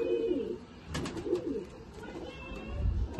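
Close, repeated cooing from pigeons kept in a home loft in Bendel, Chinsurah, rolling in soft pulsing phrases, with a brief rustle or flutter partway through and no talk.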